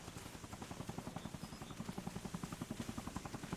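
A helicopter in the Arma Reforger video game, steady rhythmic rotor thumping with a droning engine, moderately close and constant.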